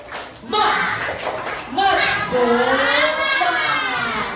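A group claps in a quick rhythmic pattern while children chant along in unison, close and lively.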